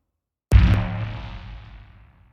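A synthesized impact with a fast-in, slow-out envelope and a pop transient: a single sudden boomy hit out of silence, then a long, smooth decay over about two seconds.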